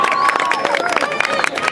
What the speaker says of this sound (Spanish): fuerte ese ruido, aplauso quilombo para estas 2 bestias